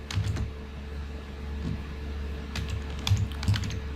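Typing on a computer keyboard, a run of close, soft key clicks with a few louder bursts over a low steady hum.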